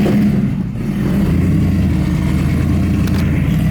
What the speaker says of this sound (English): when you take your exhaust off your car, you gotta give it a, just gotta at least give it a little go with no exhaust